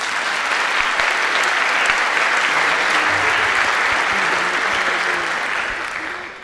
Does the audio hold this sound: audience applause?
yes